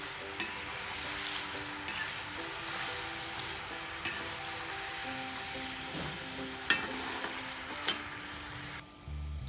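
Chana dal fries in oil with a steady, soft sizzle and crackle, broken by occasional light clicks of stirring.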